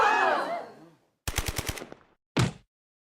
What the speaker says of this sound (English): It's an MP5 originally made in Germany in the 1960s.